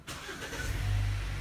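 A Haval H6 car engine cranks and starts up close, settling into a steady low idle hum with no talk over it.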